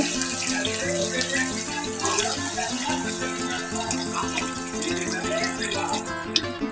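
Water pours steadily from a tap into a metal cooking pot over chicken, a continuous splashing gush with faint ringing tones, close and loud throughout.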